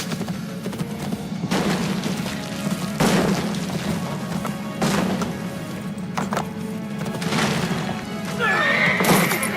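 A horse in Assassin's Creed Brotherhood whinnies several times over a low, steady game background, with heavy thumps and hoof sounds between the calls and a loud neigh near the end.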